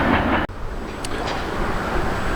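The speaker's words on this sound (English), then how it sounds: "Train full of hoppers, no DPU." A freight train of hopper cars rolls past steadily on a windy, cold day, a continuous rumble with a sharp click near the start and faint high squeals.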